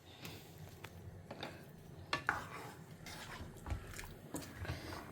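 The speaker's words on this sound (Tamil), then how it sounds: "நான் இப்போ குக்கர்லேருந்து காய், தக்காளி, பருப்பு எல்லாம் வேக வச்சதை இதோடு சேர்த்துட்டுறேன்." Cooked vegetables, tomato and dal from a pressure cooker being added to a pot of sambar, with soft clinks of a spoon against the vessel, light stirring and a low background simmer.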